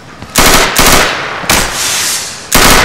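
Loud bursts of rapid automatic gunfire in the video game Insurgency, market map, three or four sharp volleys in quick succession, close and harsh with no talking.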